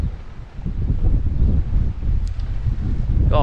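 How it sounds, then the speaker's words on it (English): Strong wind buffets the microphone during a sole fishing session from a boat, a steady low roar that gusts louder after the first half second, with faint water sounds and no talk. "this wind's getting stronger."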